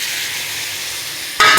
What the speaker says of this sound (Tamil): கத்திரிக்காய், கேரட்டு, முருங்காய் அலசி தனியாக கட் பண்ணி வச்சது இதில் போடணும்